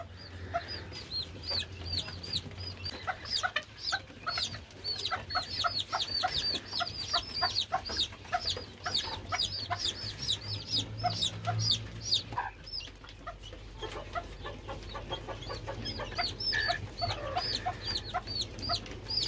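A rooster and chicks share one cage, with rapid high peeping from the chicks running almost continuously alongside low clucking, close and moderately loud throughout.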